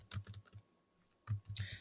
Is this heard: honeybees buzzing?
no